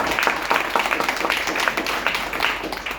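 An audience at a DXN leadership event claps for a sponsor, a loud, moderately dense round of applause with uneven rhythmic bursts throughout.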